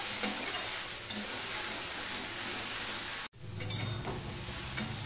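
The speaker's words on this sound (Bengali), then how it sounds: "দেখো 1 মিনিটের মতো আমি এইভাবে নাড়িয়ে নাড়িয়ে আমি জলটা শুকিয়ে নিয়েছি।" Washed jujubes are stirred in a pan over heat to dry off the water, giving a steady soft sizzle and scraping throughout with a brief break midway.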